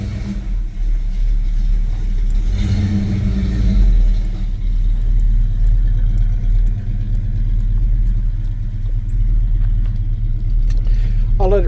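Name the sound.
Chevy C10 truck 350 V8 engine running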